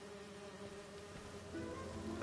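Steady insect-like buzzing from small bee-guarding drones in Spider-Man 2, a faint, continuous whirring hum with a slight rise in pitch and level toward the end.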